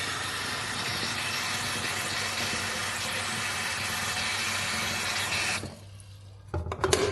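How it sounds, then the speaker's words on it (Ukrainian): Water runs steadily from a tap into a new Lehmann Aqua Glass electric kettle, a loud, even rushing stream that stops near the end, followed by a few brief clinks and handling sounds. "Наповнюємо чайник водою для першого використання."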